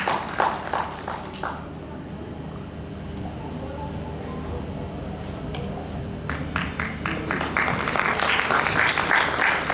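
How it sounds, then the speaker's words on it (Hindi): An audience claps for honorees at a Women's Day ceremony, light scattered clapping fading into murmuring and then rising again into fuller applause near the end, with voices in the background. "एक बार जोरदार तालियां इन दोनों के लिए।"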